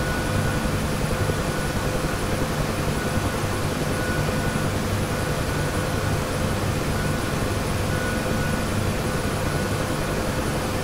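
UH-1H Huey helicopter in the DCS flight simulator over Nevada, a steady, even rotor and turbine drone filling the whole stretch at constant loudness, with no talk over it.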